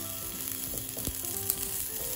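Water flicked onto a hot, dry wok crackles and sizzles close up, with a short sharp burst of spitting followed by a steady hiss.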